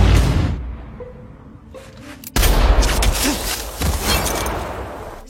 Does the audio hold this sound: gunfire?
yes